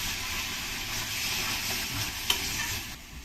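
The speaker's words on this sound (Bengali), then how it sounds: "টমেটো আমি একটু বেশিই দেবো চার চামচ দিয়ে দেবো ভালো করে কষিয়ে নিতে হবে" Tomato paste sautéing in a pan for a soybean chunk and paneer dish, a steady close sizzle with soft stirring scrapes and one brief sharp clink near the end; no talking.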